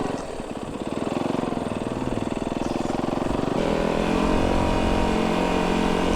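A side-by-side off-road vehicle engine chugging steadily nearby, its tone shifting midway as the throttle changes, loud and continuous with no talk.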